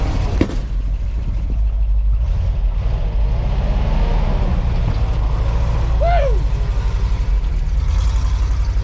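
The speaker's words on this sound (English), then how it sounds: "Thing's sitting here idling nicely." A truck engine with no brakes idles steadily and loudly nearby, a continuous low rumble throughout, with a brief squeal partway through.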